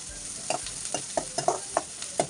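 Finely chopped curry leaves and two finely chopped onions sizzle in oil for a fish tawa fry masala, with a steady frying hiss broken by repeated scraping stirs of a spoon against the pan, close up and without talk.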